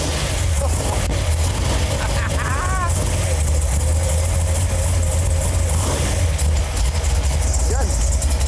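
A 427 big block V8 in a street/strip Chevy S10 runs with a loud, deep, continuous rumble close by throughout, while people's voices and exclamations come through over it.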